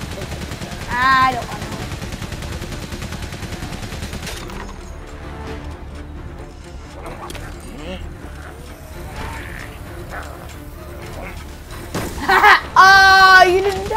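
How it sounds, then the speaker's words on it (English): Gunfire in the World War I video game Valiant Hearts: intermittent shots and mechanical clatter in a tense battle scene, with a person talking over it and a loud burst near the end. "oh, bullets! I don't want to get killed!"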